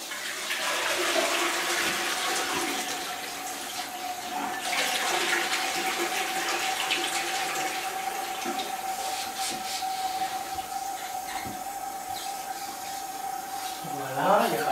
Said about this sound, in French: alors déjà on va tirer la chasse.